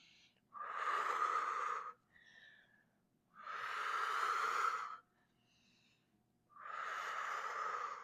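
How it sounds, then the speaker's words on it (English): Three long, forceful exhales during a deep core exercise, each a breathy hiss lasting about a second and a half, spaced evenly with quiet pauses between, close and clear with no talk. "Exhale, pull it in."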